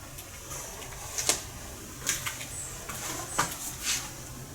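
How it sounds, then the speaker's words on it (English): Water dripping under a table in a quiet room, a handful of small sharp drips falling at irregular intervals against faint background hiss. "Oh, there's another drip."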